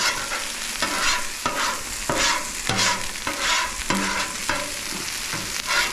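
A metal spatula scrapes across a hot flat-top griddle, cleaning it in repeated loud rhythmic strokes over a continuous sizzle, close and forceful.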